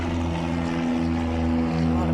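Aircraft passing overhead give a steady, droning propeller hum that holds at an even level throughout, with no pauses or break in the sound.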